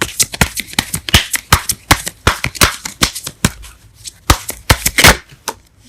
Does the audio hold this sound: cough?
no